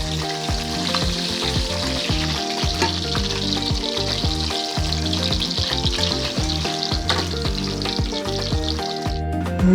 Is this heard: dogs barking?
no